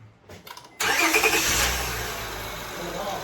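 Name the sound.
Honda Accord engine starting and revving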